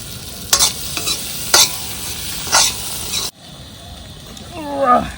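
Tomatoes go into a spice paste that is frying and releasing oil, and are stirred in. Three sharp scraping stir strokes ring over a soft sizzle, then the sound cuts abruptly to a quieter background with a brief voice-like sound.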